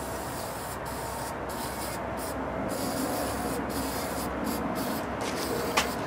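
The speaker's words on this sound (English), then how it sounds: "I'm going to spray that on the terminals here." Protectant sprays from an aerosol can onto car battery terminals in a steady, close hiss lasting several seconds, broken by a few brief pauses, with no talking.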